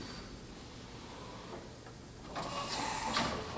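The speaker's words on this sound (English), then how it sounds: "We'll actually do a tool change because there's a tool in there." An Okuma Genos CNC vertical machining center runs a tool change: a low steady machine hum, then a louder mechanical whir and clatter in the final second or so as the changer swaps the tool, close by with no talk.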